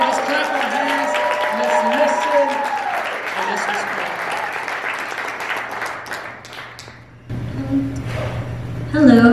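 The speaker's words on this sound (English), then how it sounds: "let's clap our hands" Church congregation clapping hands together at a Kingdom Church gathering, a broad wash of claps under a singing or speaking voice, fading briefly before a voice takes over with louder claps returning at the end.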